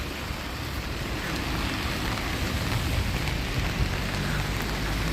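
Steady rain pours down outdoors on a busy street with heavy traffic in Israel, a dense, continuous hiss filling the scene without pause and without voices.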